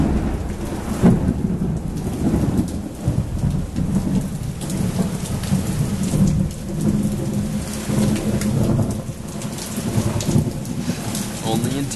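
Heavy rain pours down steadily in Tampa during a thunderstorm, with rumbling thunder rolling underneath the dense hiss of rain hitting surfaces, loud and close throughout.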